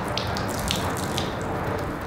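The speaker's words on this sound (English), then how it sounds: "Look how much water, just squeezing out the water is a job." Water running and dripping as it is squeezed out of a washed area rug outdoors, a steady close splashing trickle with brief drip accents throughout.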